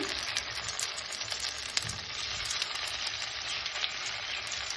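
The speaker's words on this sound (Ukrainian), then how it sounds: "і смажимо з обох сторін до золотистого кольору." Zucchini fritters fry in hot oil in a pan, a steady, close, crackling sizzle that holds evenly throughout with no voices.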